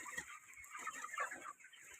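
Broiler chickens at a poultry farm, about four weeks old, clucking and murmuring together as a close, continuous flock chatter with no talking.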